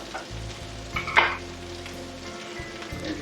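Burgers frying in a pan, a low steady sizzle with a hum underneath and a short clatter near the middle, fairly quiet and without voices.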